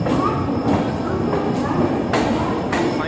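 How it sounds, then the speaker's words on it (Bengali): Sealdah–Puri Duronto Express (22201) running on the line to Bhubaneswar: a steady, loud rumble of wheels and carriage with repeated rhythmic clacks across the track joints. "ছেড়ে দিল ট্রেন, এবারে নেক্সট স্টেশন হচ্ছে ভুবনেশ্বর"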